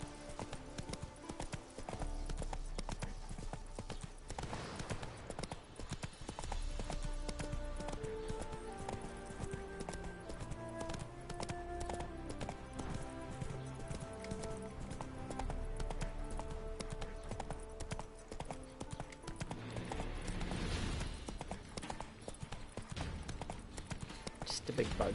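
Horse hooves clip-clop at a steady trotting rhythm in The Witcher game, carried on under continuous game music and ambience while a player talks over it.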